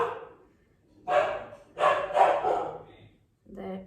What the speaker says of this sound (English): That's my doggy which is barking.